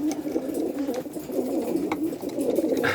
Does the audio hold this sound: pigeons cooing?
yes